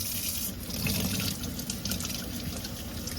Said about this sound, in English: Because it's good to rinse this stuff off of them